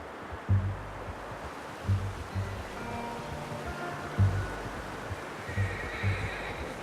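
Horse whinnies and snorts in the Red Dead Redemption 2 video game, several short bursts spaced a second or two apart against a soft outdoor ambience, fairly close and moderately loud.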